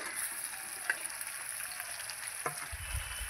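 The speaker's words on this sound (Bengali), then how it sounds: "আগে যদি দিতাম ঝিঙেগুলো সব গলে যেত, তাই আমি ঝিঙেগুলো এখন দিচ্ছি।" Tender ridge gourd pieces frying with spice-coated potatoes in a pan make a soft, even sizzling hiss, joined by a couple of sharp clicks of the utensil and a low thump near the end. No voices are heard.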